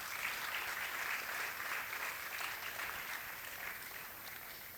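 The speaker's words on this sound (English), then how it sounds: "Please join me in welcoming him with a huge round of applause as well." Auditorium audience at a talk event giving a warm round of applause to welcome a guest speaker, a continuous distant-sounding wash of many hands, fairly faint and even.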